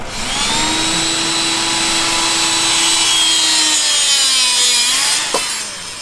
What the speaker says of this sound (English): So we use hydraulic rebar cutters.